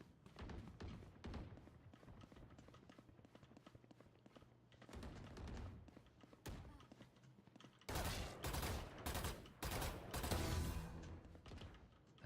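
Rapid gunfire bursts in a first-person shooter game, loud and repeated, with sustained automatic volleys growing denser in the later half, under a player's occasional talk.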